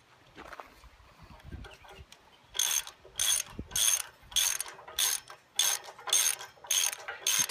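A carriage bolt on a landscape rake tang is tightened with a ratchet, which gives about eight evenly spaced bursts of loud metallic clicking after a few softer knocks and shuffles, close up and without talk.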